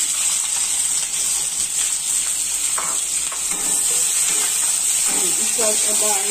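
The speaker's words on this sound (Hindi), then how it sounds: "प्याज को फ्राई होने देती हूँ" Two large, finely chopped onions frying in a pan for a home-style chicken masala, a steady hiss and sizzle running throughout with faint clinks of stirring and someone talking over it.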